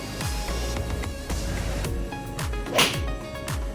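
A single sharp crack of a 3-iron striking a golf ball rings out against an even outdoor background at a driving range.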